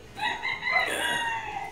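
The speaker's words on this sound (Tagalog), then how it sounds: "Walang mga manok na tumilaok. Ay meron pala oh. Tilaok lang." A rooster crows once, a clear, drawn-out call at moderate distance against a faint background hiss.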